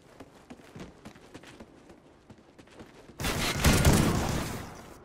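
Video game gunfire: a rapid patter of small sharp cracks for about three seconds, then a loud, dense burst of shots that holds for roughly two seconds before easing off, with no talking.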